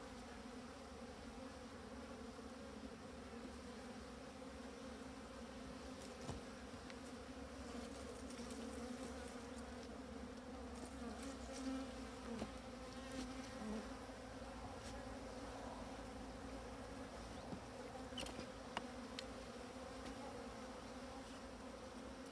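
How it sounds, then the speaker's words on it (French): Honeybee drones buzzing inside an open hive during an inspection, a dense, steady, continuous hum of many wings with no talk over it. "Voilà, des faux bourdons ici."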